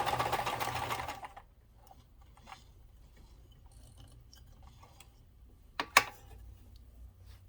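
A Kenmore 158.13400 sewing machine stitches fabric in a quick run of about a second. Quiet follows, broken by a few faint mechanical ticks and one sharper click.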